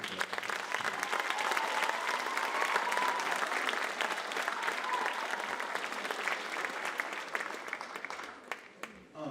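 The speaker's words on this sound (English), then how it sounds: "Could they get a big round of applause?" A school choir concert audience gives a big round of applause, a broad, even roar of many hands clapping for several seconds before thinning out and tapering away near the end.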